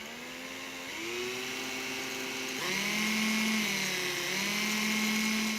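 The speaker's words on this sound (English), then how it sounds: "now drill a hole straight through it" An electric drill bores a hole straight through a ceramic teacup, a steady whining motor drone that shifts pitch as it bites and loads, loud and close, with no talk.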